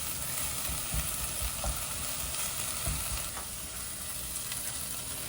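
Onion and bacon sizzle steadily in a pan while a utensil stirs and scrapes through them, close and continuous with occasional clacks, no talking.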